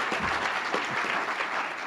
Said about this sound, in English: let's give a big round of applause for the people that put on this show